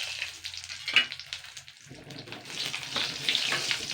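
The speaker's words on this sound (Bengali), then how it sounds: "কড়াইতে যে তেলটা ছিল মাছ ভাজার তেল, সেই তেলেই কিন্তু এখানে আমি এই গাছের দুখানা বেগুন এগুলো আমি দিয়ে দিচ্ছি" Eggplant pieces dropped into leftover fish-frying oil in a wok, giving a steady near sizzle and crackle that swells after a brief quieter stretch, with a few clinks mixed in.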